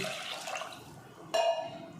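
Water pours into a pot of mutton chukka with tomatoes close by, a steady rushing splash that suddenly grows louder partway through, with no talking.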